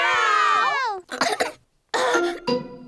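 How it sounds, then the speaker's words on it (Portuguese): A cough from a Peppa Pig cartoon character with a contagious cough: a drawn-out voiced sound, then two harsh, close cough bursts separated by a short pause. "Como eu pensei, a tosse do Pedro é contagiosa."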